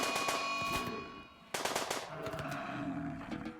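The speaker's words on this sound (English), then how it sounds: "In which case, I will shoot it from here." Rapid gunfire from the RimWorld video game as colonists shoot a yak, a dense continuous burst with a brief dip and then a second stretch of shooting, mixed with game effects and fairly faint overall.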